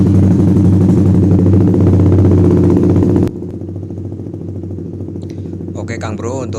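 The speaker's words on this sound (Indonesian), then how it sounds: "sekarang kita nyalakan untuk motor" A Honda CB150R motorcycle engine runs at steady idle, loud and close, its even low throb continuing throughout; the level drops slightly partway through as the engine keeps running, with faint rattles near the end.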